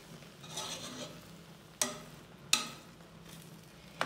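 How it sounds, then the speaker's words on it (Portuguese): Food is stirred in a pan over low sizzling, and a utensil knocks sharply against the pan three times at uneven intervals, all close and fairly quiet. "Misturo tudo."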